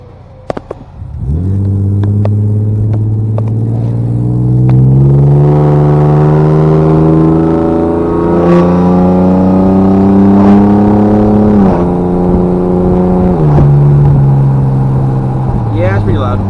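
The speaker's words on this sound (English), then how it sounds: "Pretty alright sound out of a truck." A truck engine revs up loudly and rumbles close by, pitch rising and falling with several throttle changes.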